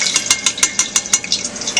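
Cannoli shells in their molds sizzle and crackle in hot frying oil, loud and close, with regular sharp bursts roughly every few tenths of a second and no talk.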